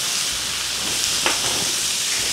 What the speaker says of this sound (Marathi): तर हा कांदा असा आपण परतून